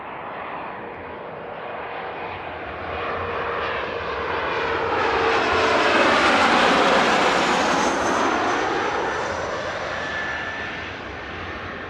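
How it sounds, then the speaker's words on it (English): A jet airliner roars overhead as it lands at Frankfurt Airport, the engine noise swelling to a peak and fading, with a whooshing, swirling rush of wake vortices trailing behind. "Let's see if we're getting some more nice loud vortices."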